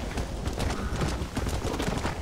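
Horse hooves clip-clopping in the video game Red Dead Redemption, a dense, continuous run of close, loud hoofbeats with no pauses.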